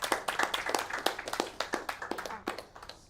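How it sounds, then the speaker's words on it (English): A small audience at a tech meetup claps for a presenter, a sparse, fairly quiet round of distinct individual hand claps with an uneven rhythm, heard alone without talk. "Let's give a round of applause to Pauline."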